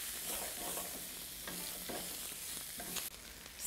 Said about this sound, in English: Now I'll just give that a stir around, being careful not to burn the garlic.